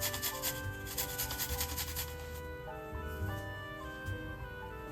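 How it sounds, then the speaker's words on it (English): Garlic grated by hand for a fresh carrot salad, a soft repeated rasping rub close up, strokes running in a steady rhythm alone with light background music. "Let's grate the garlic."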